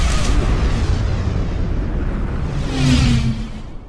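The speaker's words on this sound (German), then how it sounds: "Und immer wieder explodiert der Todesstern." A loud, rumbling explosion of the Death Star in Star Wars Battlefront II, with a swelling roar, continuous and heavy from start to finish.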